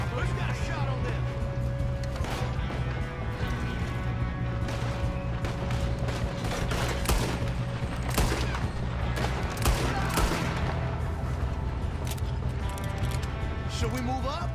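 Gunfire rattles through a shootout in Red Dead Redemption 2, with sharp shots scattered over a dense, steady game soundscape. Voices talk over the action.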